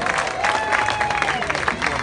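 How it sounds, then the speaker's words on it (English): A group of family members on vacation cheering and clapping together, a brief burst of applause and shouts with a voice talking over the noise. "Guys, let's give JJ a big cheer."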